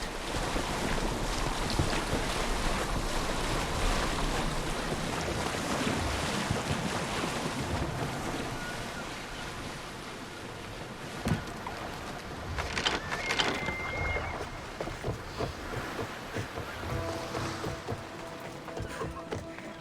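Ocean waves wash around a boat in Assassin's Creed Odyssey, a steady rush of surf and wind with occasional splashes and creaks, moderately loud and continuous without talk.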